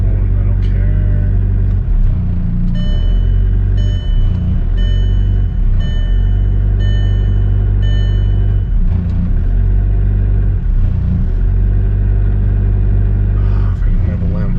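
A 2004 VW Passat TDI diesel engine with a broken turbo runs loud and steady, with a deep rumble that dips and swells several times as it is revved, while a person talks over it.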